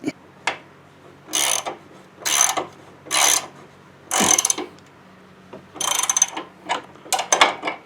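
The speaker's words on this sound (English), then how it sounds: "then I'm going to get my other 19 socket on the bottom, and then I'm just going to start tightening that up" Ratchet wrench with a 19 mm socket tightening the mounting bolt of a 7-inch 4x4 driving spotlight, heard as several short bursts of quick clicking, close and fairly loud, with brief pauses between pulls.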